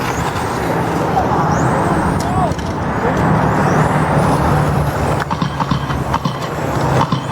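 Racing cars at a dirt oval (Ripon, 17.5 A-Main) roar down the back straight in a dense, continuous engine drone, with a commentator speaking over the pack.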